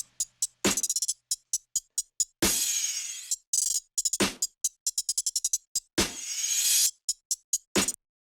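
A dry, sparse drum loop of crisp hits, with swelling reversed hi-hat sweeps rising into accents at a steady tempo, built in Ableton Live.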